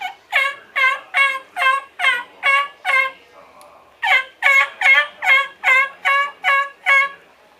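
A hunter's mouth call imitating an old boss turkey hen: two loud, close series of raspy yelps, about eight notes each, separated by a short pause, with no other sound around them.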